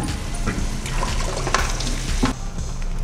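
Tamil egg gravy with coconut paste and added water bubbling and sizzling in a pan, a steady close wet simmer with occasional clinks and stirring, no talk.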